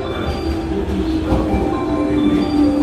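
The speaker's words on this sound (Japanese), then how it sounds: "これはこの地方ではよく見かけるですね、115系電車というものなんですね" A 115 series electric train arriving at a station in the Okayama area, with a steady rumble of wheels and a faint whine and squeal of the rails rising slightly as the train comes close.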